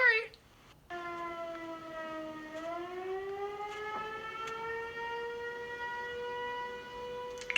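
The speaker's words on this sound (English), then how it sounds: "Hopefully I can tell my story over the loud tornado sirens." A tornado warning siren sounds during the Nashville tornado, a long, sustained wailing tone whose pitch slowly shifts, heard from a distance and steady, with a voice heard briefly near the start.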